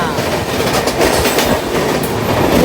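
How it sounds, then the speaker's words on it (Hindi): A Janshatabdi Express train overtakes the Ala Hazrat Express, with loud, continuous rumbling of rail wheels and clattering wagons heard up close, dense and steady throughout. "अपनी ट्रेन ओवरटेक मारी है आला हजरत एक्सप्रेस को"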